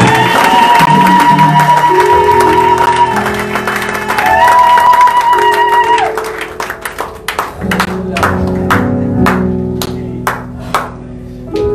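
A church congregation erupts in cheering and clapping as an offering of acclamation, with loud voices and tones swelling at first, then giving way to scattered sharp claps that continue to the end.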